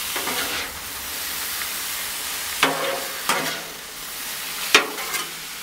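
Carne asada sizzling on a Blackstone flat-top griddle, a steady hiss punctuated by a few sharp spatula scrapes and taps, close and fairly loud with no talking.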